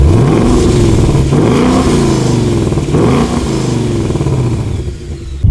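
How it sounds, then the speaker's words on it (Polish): A classic American car with a 5-litre V8 engine at an American classic car meet revs loudly and up close, its deep note rising and falling in several swells without any talk. "Dźwięk tego samochodu, zaraz Wam nagramy, jest po prostu bajeczny."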